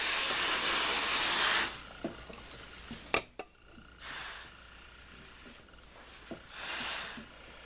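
Steam iron hissing over cotton fabric on an ironing board, with bursts of steam at the start and end and soft clunks and thuds of the iron in between, close and fairly quiet with no talking.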